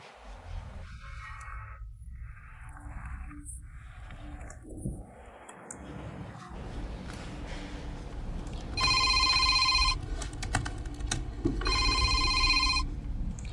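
A telephone rings in two bright, loud electronic bursts during a tense dramatic scene, standing out over a low murmur of background sound with no voices during the rings.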